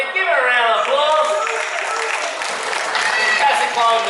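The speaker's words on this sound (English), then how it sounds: "Give it a round of applause." Audience applause at a tiger show at Dreamworld's Tiger Island on the Gold Coast, a steady wash of clapping that fills the whole stretch with a voice rising above it.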